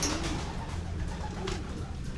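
Pigeons cooing in a racing-pigeon training setting in Los Baños, Laguna, soft low coos close by over a steady outdoor background.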